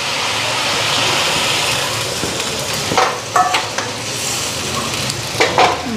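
Fish set into hot oil in a pan on a home stove sizzles loudly and steadily, with a few soft clinks and scrapes near the end.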